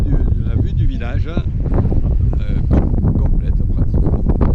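Gusty wind sweeps across the rugby field at Talairan village, roaring and buffeting the microphone in loud, continuous rushes, with muffled voices faintly underneath.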